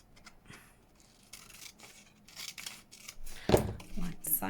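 Scissors snip paper for a handmade envelope folio journal, giving several quick close cutting and rustling strokes that end in a sharper final snip, with a voice talking intermittently.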